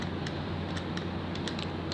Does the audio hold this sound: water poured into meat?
no